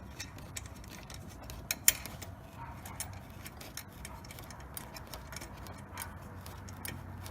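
Ratchet clicks from loosening the headlight housing bolts on a Nissan 350z, a steady run of small ticking clicks close by with a few louder knocks, no talk.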